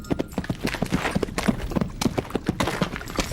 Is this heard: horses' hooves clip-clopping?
yes